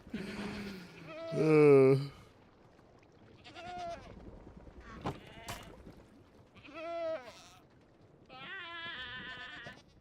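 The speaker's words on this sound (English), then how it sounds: "I might need to get rid of the goats." Goats in the video game Minecraft give several nasal, wavering bleats at irregular intervals, fairly close, in a quiet setting with a few soft clicks between them.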